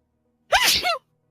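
One sharp, loud sneeze bursts out close by in an otherwise quiet room, lasting about half a second.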